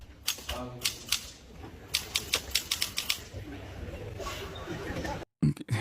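A typewriter clacks in a classroom, quick sharp keystrokes in irregular bursts, loud and close, with a steadier mechanical background and a brief cut near the end.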